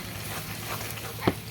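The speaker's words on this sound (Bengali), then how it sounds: "পেঁয়াজটা ভাজা হয়ে গেছে, গুঁড়ো মশলা লঙ্কা হলুদ সব দিয়ে দিলাম।" Onion fries in a pan with ground chilli and turmeric, giving a soft steady sizzle with a single brief scrape of a spoon near the end; quiet and close.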